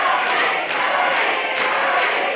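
A wrestling show crowd cheers and shouts in a continuous loud, dense roar that fills the arena.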